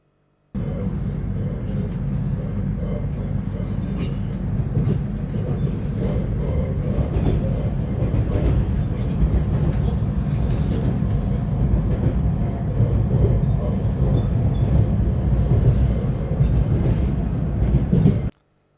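A train rumbles steadily across Moscow with a constant low roar and faint rattling, close and continuous from start to finish.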